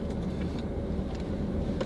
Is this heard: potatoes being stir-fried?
no